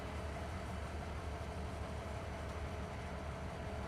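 A freight train in the video game Farming Simulator 25 gives off a steady, even rumble with no talk over it.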